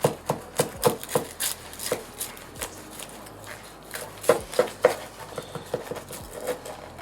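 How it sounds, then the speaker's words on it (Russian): A knife makes a series of crisp, irregular chopping and slicing strikes through a roasted bull leg against a board, close by, with short pauses between cuts. "Давайте наконец-то разрезать и смотреть, что внутри."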